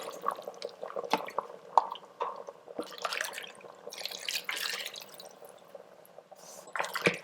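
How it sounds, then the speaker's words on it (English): About two cups of water poured into an Instant Pot of lamb vindaloo with fried onions, a soft steady splashing and dripping with small irregular sloshes, close and fairly quiet, with no voices. "now I'm going to add around 2 cups of water"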